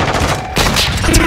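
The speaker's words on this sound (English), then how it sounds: "I'm using my rocket launcher" A rocket launcher fires in a shooter video game, producing a loud, dense burst of blasts and booming gunfire that fills the whole moment without a break.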